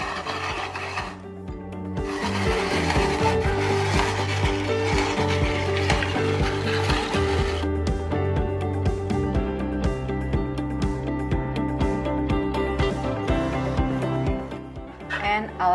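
Six carrots rubbed down the large side of a box grater, a steady run of rough rasping strokes close by, continuing for several seconds.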